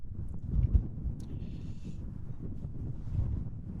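Cold, strong wind gusts across a microphone at Schiphol Airport in Amsterdam, a steady low rumbling buffet with louder swells throughout and no talking.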